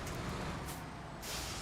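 A truck in the Snowrunner video game, its engine giving a steady low rumble under a broad hiss of air-brake release that swells and fades, loud and close with no talk.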